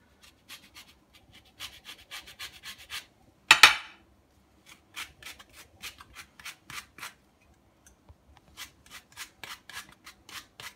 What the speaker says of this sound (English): Then I'm going to grate in some orange.